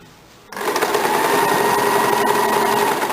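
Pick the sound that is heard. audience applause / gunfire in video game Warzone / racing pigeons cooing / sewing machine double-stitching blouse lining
sewing machine double-stitching blouse lining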